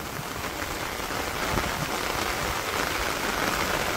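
Light rain falls steadily on surfaces in a village, a dense even patter that keeps the same level throughout with no voices.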